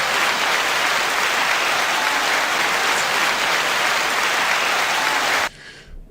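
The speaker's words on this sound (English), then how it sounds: "9 second applause to you and your lovely fiance" Nine seconds of dense, uniform applause on a rap media podcast, loud and unbroken like a packed crowd, then cutting off abruptly near the end.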